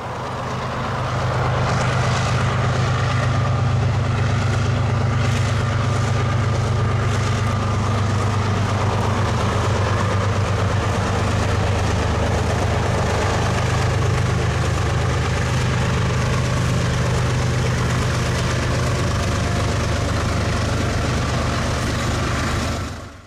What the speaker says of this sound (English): This manifest is too long to fit into the siding, so the rear will stick out onto the main line.